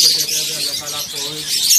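Pet birds in a breeder setup chirping and calling in short bursts, close and fairly loud, with a voice talking over them.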